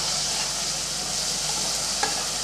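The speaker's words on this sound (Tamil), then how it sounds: "தக்காளி ஓரளவுக்கு நல்லா வதங்கட்டும்" Finely chopped tomatoes sauté in a hot pan for a rice and dal dish, giving a steady close sizzle with a faint stir or scrape near the end.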